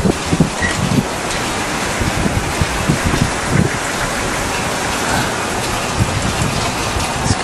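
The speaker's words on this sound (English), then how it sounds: "this wind will keep up until about midnight" Strong wind gusts across an outdoor yard near a wind turbine, a loud continuous roar with rough buffeting bursts throughout and no one talking.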